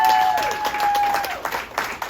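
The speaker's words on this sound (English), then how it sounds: "Can we give a round of applause for nurses for a second?" An audience applauds nurses, a dense burst of clapping that swells briefly and then thins out over a couple of seconds.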